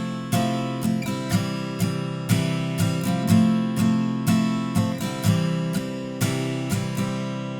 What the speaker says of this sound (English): I'm just going to show you the easiest possible way of playing this verse with a simple strumming pattern